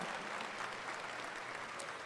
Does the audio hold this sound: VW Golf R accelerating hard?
no